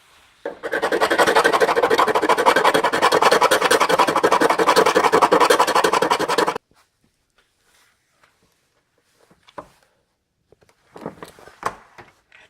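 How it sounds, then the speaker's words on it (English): Rough, rapid back-and-forth sanding and scraping on a surface being prepped for stud welding, loud and close for several seconds, then stopping, followed by faint knocks and handling noises. "Let's sand some more. Or scrape some more."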